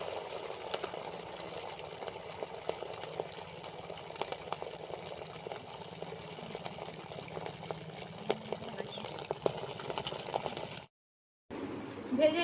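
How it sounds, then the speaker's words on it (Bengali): Milk sweets drop into hot oil one at a time and fry in an iron wok, giving a faint, continuous bubbling sizzle with small crackles. A brief silent gap comes near the end before the frying resumes. "তেলটা গরম হয়ে গেছে, ওর মধ্যে একটা একটা করে ছেড়ে দিচ্ছি।"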